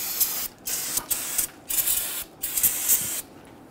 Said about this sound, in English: We are going to give that a quick spray with some solvent.